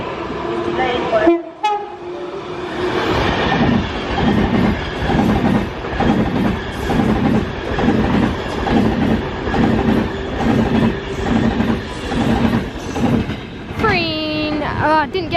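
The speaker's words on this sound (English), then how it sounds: "that is 390 working service to Glasgow Central with a nice two-tone from the driver" A Class 390 passenger train on a Glasgow Central service runs through Crewe station with a loud, steady rolling rumble, and a clear two-tone horn from the driver sounds near the end. A voice speaks early on.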